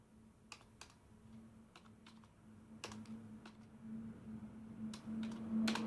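Quiet clicking of a computer keyboard, with scattered individual keystrokes in an irregular rhythm over a low steady hum, close and faint, with no voices.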